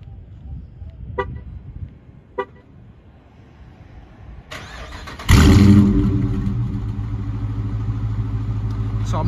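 A few soft clicks, then a 2019 Dodge Charger R/T engine cranks and roars to life with a loud burst, settling into a deep, rumbling idle.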